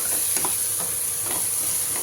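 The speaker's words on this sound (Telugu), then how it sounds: "అల్లము పచ్చివాసన అయ్యే వరకు వేపుకోవాలి" Ginger paste frying in a pan for a home-style chole masala curry, a continuous close sizzle with soft scraping from stirring, and no talk.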